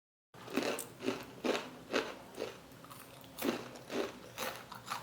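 Crisp chana dal pakoda, homemade fried snack of split chickpea lentils, crunches through a run of distinct bites, about ten evenly spaced close crunches with no talking.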